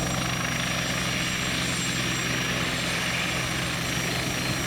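A Westland helicopter's rotor and engine drone steadily and loudly while hovering over water in Microsoft Flight Simulator 2020, a constant whirring roar with a high whine on top, no voices.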